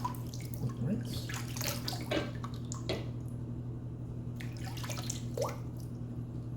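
Water running and dripping as a razor is rinsed during a wet shave, soft splashes and trickles close by over a steady low hum, with no talk.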